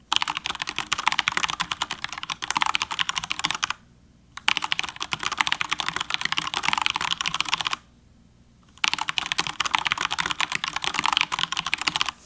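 Rapid clacking of a Corsair K70 mechanical keyboard being typed on, loud and close, in three bursts separated by two short pauses.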